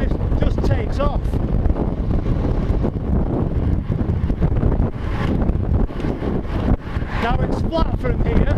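Heavy wind rushes and buffets across the microphone as a rider pushes a Cube Litening Super HPC road bike at speed into a headwind, loud and gusty throughout, with a voice talking over it.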